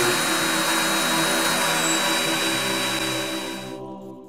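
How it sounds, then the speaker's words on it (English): MetroVac DataVac electric duster blows a loud, steady high-pitched whoosh of air close by, cutting off abruptly near the end. "This is the DataVac electric duster from MetroVac."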